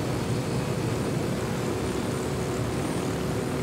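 Helicopter flying in Ghost Recon Wildlands, a constant loud rotor and engine drone that stays level and close without any break.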